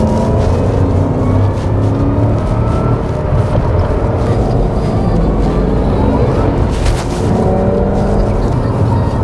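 Supercharged 2010 FPV GS car driving laps at the Lakeside circuit, a loud, steady engine drone heard from inside the car, holding constant without pauses or talking.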